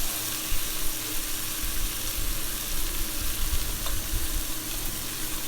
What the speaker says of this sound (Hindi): हाफ़ टी स्पून हल्दी डाल देंगे ताकि तमाम मसालों के साथ भुन जाए।